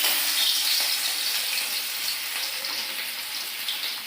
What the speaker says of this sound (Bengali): এখন আমি মাছ ভাজা বসাবো